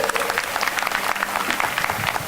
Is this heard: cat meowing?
no